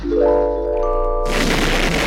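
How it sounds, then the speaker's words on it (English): An atomic pill dropped from a helicopter in a cartoon explodes: a loud steady tone holds, then a sudden roaring blast breaks in and keeps rumbling to the end. "Oh, what an explosion! It was heard for miles and miles around"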